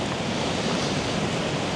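Ocean waves on an incoming-to-outgoing high tide at Barricane beach wash continuously against the seashore, a steady broadband roar with no breaks, fairly close and alone with no voices.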